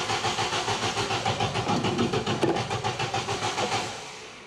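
A car nicknamed Ninety, just fitted with a replacement engine, cranks over in a steady rhythmic churn of starter pulses for several seconds before winding down, close up with no talking.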